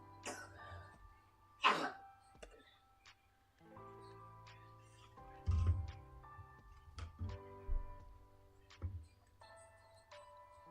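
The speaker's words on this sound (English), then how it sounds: "Sorry if you hear coughing in the background." Sick children cough a few times in a quiet room at home, short isolated coughs and throat sounds spread irregularly with pauses between, faint and somewhat distant.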